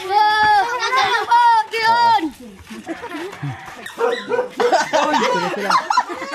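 A puppy yaps in high, repeated barks near the start, then people talk and chatter over a noisy outdoor background at a Christmas party.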